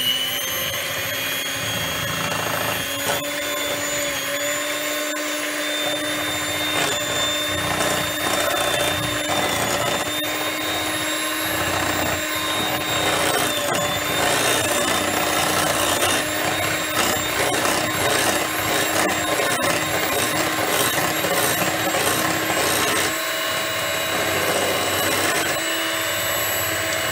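An electric stand mixer beats sweet potato batter for sweet potato squares, giving a loud, steady motorized whir with a fluctuating churning texture that runs without a break throughout.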